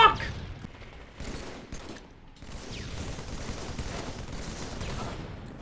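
Assault rifle gunfire in Halo 3 sounds as bursts of rapid automatic fire. A loud shot opens the stretch, then comes a brief lull, then sustained rattling fire at mid distance, mixed with other game combat noise.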